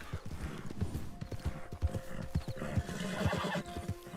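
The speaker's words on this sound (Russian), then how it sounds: "Лошадь устала, да?" A horse in the video game Red Dead Online gallops with a steady, rapid clip-clop of hooves and whinnies over the running hoofbeats.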